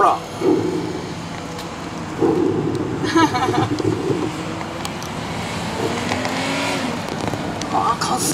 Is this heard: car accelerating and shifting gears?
yes